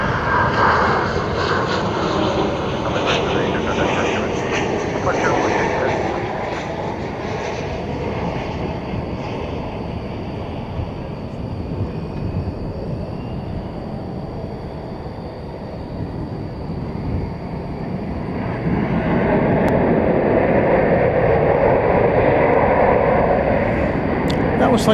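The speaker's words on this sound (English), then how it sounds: "That was Flight 3286 coming in from Las Vegas." A jet airliner, a flight in from Las Vegas, lands at DFW Airport at night with a sustained loud rumbling roar and a steady whine that swells near the end, as a voice talks over it.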